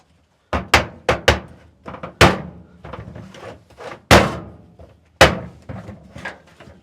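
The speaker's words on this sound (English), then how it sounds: "we'll just start hammering these together" Sharp hollow knocks of a hammer striking interlocking foam truck-bed mat pieces, irregular blows with short gaps, close and fairly loud.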